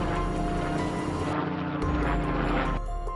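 A cartoon helicopter whirs in an animated children's story, a loud, steady rotor drone with a sharp change partway through, with no voices.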